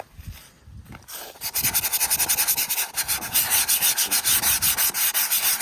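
Boat hull sanded by hand with an 80 grit sanding block: after a quiet start, loud rasping back-and-forth strokes repeat in a steady quick rhythm, close up.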